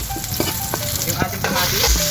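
Garlic and onion sautéing in a pan for ampalaya con chicken flakes, a dense close sizzle with light crackles and stirring scrapes, no talking.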